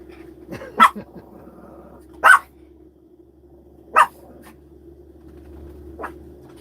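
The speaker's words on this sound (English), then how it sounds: "Yeah, I knew it was going to start barking." A dog inside a tiny house on wheels barks sharply four times, spaced a second or two apart, each bark loud and short over a quiet background hum.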